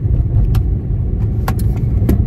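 Inside a car with the engine running, a low steady rumble fills the cabin while a few light clicks and rattles, like keys, sound close by; no talk.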